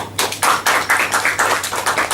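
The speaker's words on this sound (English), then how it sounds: "Give yourself a big round of applause." Indoor clapping from a small Toastmasters club meeting audience, a dense patter of hand claps that starts abruptly and continues steadily, close and loud.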